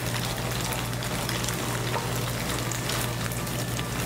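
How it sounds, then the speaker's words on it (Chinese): Tofu shallow-fries in a small amount of oil, giving a steady, close crackling sizzle with a constant hiss and no voices. "因为是用半煎炸的方式，油量比较少，所以豆腐要把它翻动一下"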